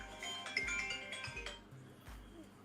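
A phone alarm ringing, a short chiming melody of bright tones repeating over a few seconds, fairly quiet, with soft low thumps underneath.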